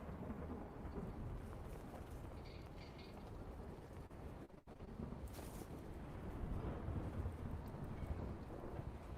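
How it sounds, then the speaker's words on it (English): An airship in a video game fires a barrage, and deep rumbling booms roll in over a faint, continuous low background, swelling again toward the end. "you hear another boom boom as the airship shoots another barrage"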